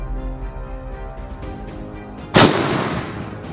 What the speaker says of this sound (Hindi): फर्स्ट अटेम्प्ट में बॉम्ब भले ही जोर से फूटा लेकिन बोतल को खरोच तक नहीं आया